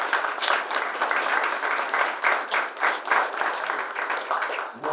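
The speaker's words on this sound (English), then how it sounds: "Let's give him a round of applause." An audience at a Cuba Bay of Pigs 65th anniversary event in Tampa applauds the Lieutenant Governor with sustained, dense clapping from a sizable crowd. The applause is fairly close and steady, then drops off abruptly at the very end.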